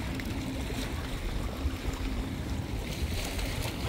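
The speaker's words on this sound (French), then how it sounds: "Il y a un peu de vent." Wind buffets a seaside jetty during sea fishing, a steady gusty rush with low rumbling mixed with the wash of nearby water, and no voices.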